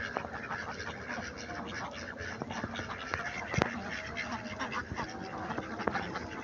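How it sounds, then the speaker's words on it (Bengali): Ducks on a farm in the Chalan Beel wetland, a flock of around 960 birds, keep up a dense, steady chorus of quacking with a few louder calls standing out. "এই খামারে হাঁস আছে"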